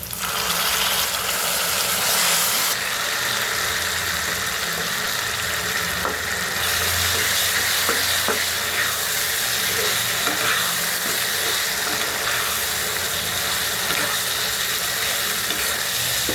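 Taro leaves are stir-fried in a pan for a thick kochu shak ghonto, a broad, steady, close hiss of steam and sizzle lasting throughout, with faint scraping and a low thump midway, no talking.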